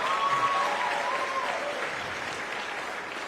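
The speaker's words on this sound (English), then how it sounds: "Let's give her a round of applause" An audience at a high school band spring concert applauds their combo president, a broad, even wash of clapping that holds steady and fades slightly toward the end.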